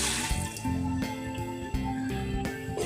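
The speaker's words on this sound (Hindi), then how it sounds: "सबसे पहले दूध डालेंगे" Milk pouring into a pan at the start of homemade condensed milk, a close continuous liquid gurgle with shifting tone as the pan fills.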